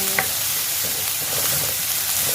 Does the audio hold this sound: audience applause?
no